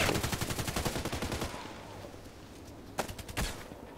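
Rapid bursts of gunfire in a sniper video game, a fast volley of close shots that trails off, followed by a couple of isolated sharper reports.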